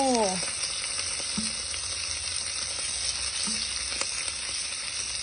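Laing reheats in a pan with a constant close, bright sizzle, and brief tones and small clicks sound over the steady frying.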